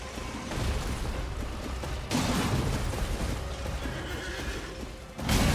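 A horse whinnies in the video game Elden Ring amid galloping hooves and rumbling impacts as it rears on its hind legs, loud and close, with a burst of clashing noise at the end.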